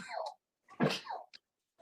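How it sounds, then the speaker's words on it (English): A person coughs in a few short, harsh bursts during a phone or video call, the strongest burst in the middle and smaller ones trailing off, with gaps of near silence between. "I'm coughing up."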